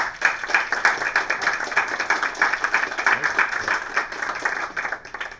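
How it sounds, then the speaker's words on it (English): Clapping from a meetup audience, a dense patter of many hands that swells and fades unevenly over several seconds, fairly close and without talk. "So big applause for Krzysztof."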